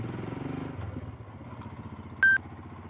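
A Royal Enfield Himalayan motorcycle engine runs steadily in a close, even throb through the clip, joined near the end by a brief electronic beep.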